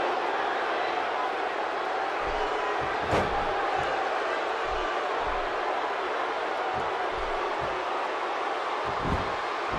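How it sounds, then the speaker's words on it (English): An arena crowd roars in WWE 2K16 during a SmackDown tag team match, a broad, steady wash of cheering with occasional thuds and slams cutting through. "Another electric crowd on hand here for SmackDown"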